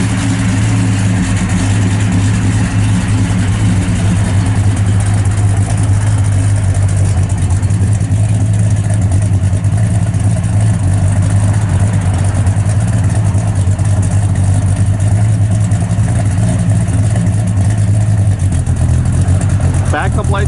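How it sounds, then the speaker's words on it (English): A 1971 Pontiac LeMans GT37 with Dynamax mufflers idles in a steady, deep, fairly subdued rumble that holds unbroken throughout, with talk faintly mixed in. "Got a set of Dynamax mufflers on it, so it's not real loud."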